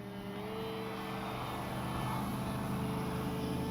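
Steady drone of an H-King Skipper RC plane's electric propeller motor in flight, a sustained hum with faint tonal whine holding fairly constant, slightly swelling toward the end, heard at moderate distance.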